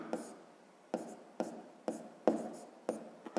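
Pen strokes write out a sixth-grade fraction maths solution by hand, with about eight short scratchy bursts in an uneven rhythm, close and quiet, no speech.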